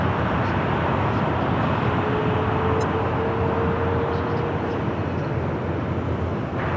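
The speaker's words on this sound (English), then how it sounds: "United Airlines Flight 1890, the 777-200, heading to Newark, number 3 for takeoff here on the south side" A United Airlines Boeing 777-200 takes off at LAX, its jet engines producing a loud, continuous broadband roar that holds steady throughout, with no talking.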